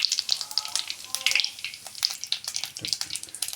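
Cumin seeds sizzle in hot oil for a Punjabi dish, a close, busy crackle of small pops and hisses that runs steadily throughout with no talking.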